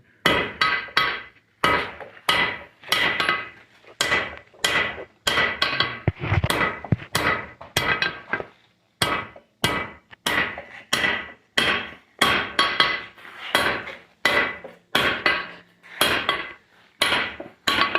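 A blacksmith's hammer strikes hot steel on an anvil while drawing out stock for a miner's candle holder, sharp ringing blows in quick rhythmic bursts with brief pauses between series, close and loud.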